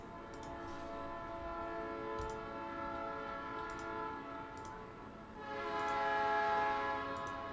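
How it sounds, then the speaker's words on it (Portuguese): A train passing at a distance, heard faintly as a low steady rumble with a sustained tonal horn-like drone and periodic clicking of wheels over rail joints, swelling slightly toward the end, no talk. "Ó o trem."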